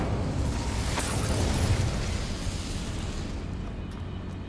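The Incendio fire spell from Hogwarts Legacy roars as a dense, steady whoosh of flame, loud and continuous for several seconds, easing off slightly toward the end.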